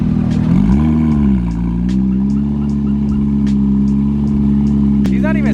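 Nissan GT-R engine idles loudly close by with a deep, throbbing rumble, pitch dipping and rising slightly with light throttle blips, while people talk and crowd noise sounds in the background.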